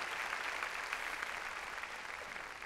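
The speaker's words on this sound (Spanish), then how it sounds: "Dale un aplauso bien fuerte al Rey bendito." A congregation claps during a Spanish-language church service after a prayer. The applause is steady and quiet, as if heard from a distance, and runs throughout with no clear voices.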